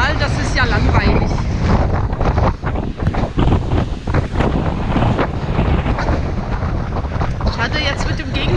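A storm batters Lake Neuchâtel, with heavy wind roaring against the microphone and waves breaking near a jetty, loud and constant throughout.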